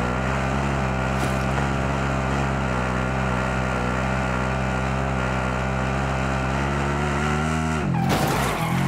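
Vehicle being driven in a multiplayer shooter video game, a steady loud engine drone with a constant tonal hum lasting several seconds, ending in an abrupt crash or skid.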